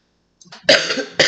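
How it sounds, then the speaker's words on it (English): A single person gives two harsh coughs close to the mic, the first preceded by a short throat-clearing catch, with a brief pause between bursts. "I knew I started coughing"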